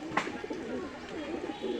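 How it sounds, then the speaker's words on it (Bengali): Pigeons coo softly and steadily close by, a continuous low warbling murmur from a pair of Teddy-type pigeons, one khaki and one plain, with faint background noise. "এই যে দুটো কবুতর দেখতে পাচ্ছেন স্কুলওয়ালা খাকি কবুতর এবং স্কুলওয়ালা কবুতর"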